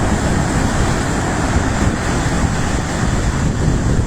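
Rough, agitated sea on the Sicilian coast: a dense, continuous roar of surf and wind noise, loud and unbroken, with no distinct individual breakers and no talking.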